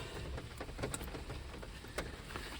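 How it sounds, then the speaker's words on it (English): Rain patters steadily and fairly softly, with a few sharper drops clicking through the constant hiss. "It is quite rainy here"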